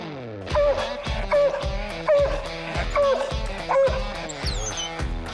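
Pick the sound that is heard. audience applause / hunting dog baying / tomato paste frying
hunting dog baying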